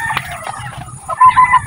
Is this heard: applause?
no